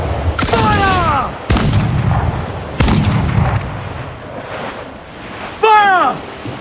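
Cannon broadsides from a sailing ship in Assassin's Creed IV Black Flag: four loud, close booms spaced over several seconds, with shouting voices and rushing sea and wind underneath.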